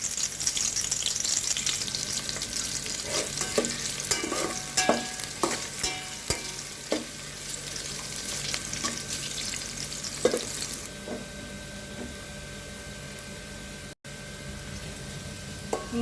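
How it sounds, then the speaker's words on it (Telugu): Chopped onions fry and sizzle in a pan for Guntur gongura pulao, steady hissing broken by repeated scraping stirs that ease off toward the end, with no voices. "ఆనియన్స్ యాడ్ చేసుకున్నాను. ఇవి వేసి బ్రౌన్ కలర్లో వచ్చేదాకా వేయించుకోవాలి."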